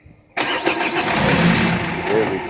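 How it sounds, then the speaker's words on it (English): A Renault Scenic 1.9 dCi diesel engine, just after a fuel filter replacement, cranks and catches after a brief quiet start, then runs in a loud, rough idle close by. "Just try and start the car there."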